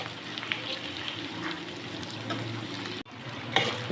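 Sliced tinda (apple gourd) frying in a pan over low to medium heat, a steady close sizzle with faint stirring, briefly cut off near the end before resuming.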